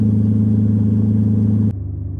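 An Aston Martin engine, about 16,500 miles on the clock, runs at a loud, steady idle, its low rumble holding evenly before dropping abruptly to a quieter, settled idle near the end.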